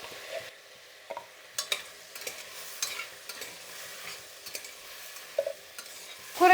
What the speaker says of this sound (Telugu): ఈ స్టేజ్లోనే వేసుకొని వేయించుకోండి కొంతసేపు